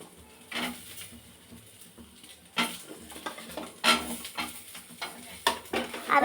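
Chopped onions fry in a pan with garlic for a spicy chutney, with soft sizzling and irregular scraping stir strokes that grow louder toward the end, fairly quiet and close.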